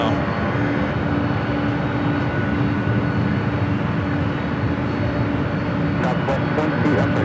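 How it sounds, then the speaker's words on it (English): An Airbus A321neo airliner at Los Angeles airport, a sustained jet engine rumble and whine held at constant level, with faint radio chatter and brief clicks near the end. "A321 Neo."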